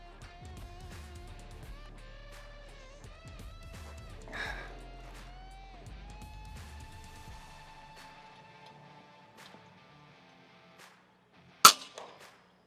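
An FX Panthera air rifle fires a slug at a pest: a single sharp crack near the end, preceded by quiet outdoor ambience with faint tonal sounds.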